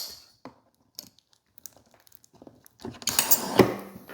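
A scooter stroller suitcase being unlatched and folded: scattered small plastic clicks and taps, then a louder burst of rattling, crinkling and clunking as the frame collapses, close by.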